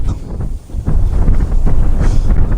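Wind buffets the microphone in loud, continuous rumbling gusts that ease briefly before surging back for the rest of the clip.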